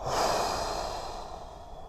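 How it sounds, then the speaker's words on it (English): One deep, slow breath, close and clearly audible, fading out gradually in a quiet setting during a golf flexibility and mobility exercise. "take a full deep breath in. Full deep breath out."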